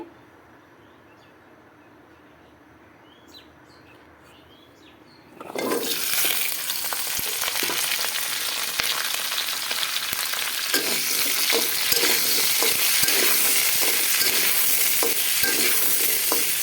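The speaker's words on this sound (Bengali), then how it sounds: "কড়াইতে তেল দিয়ে দিয়েছি এবার দিয়ে দেব কেটে রাখা আলু আর পেঁপে" Cut potatoes and papaya tipped into hot oil in a wok burst into a loud, dense sizzle after a quiet start, then keep frying steadily with scraping stirs throughout.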